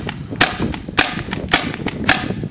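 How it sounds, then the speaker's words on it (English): Four sharp, loud shots from a PMI Tracer / ACI Maverick paintball pump gun, evenly spaced about half a second apart, each a hard pop with softer mechanical clatter between. "So I'm just going to shoot a couple."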